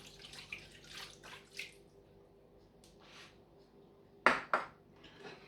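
Cooking wine poured from a measured cup over raw chicken wings being prepared as salt and pepper wings, giving a few soft splashing bursts of liquid, with the clearest splash near the end, fairly quiet and close.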